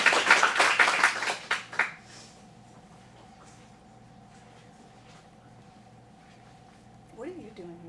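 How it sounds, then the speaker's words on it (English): A small audience at an adult acting studio showcase in Phoenix gives a short burst of clapping for about two seconds, then quiet room tone before a voice speaks. "let's give a round of applause for this scene"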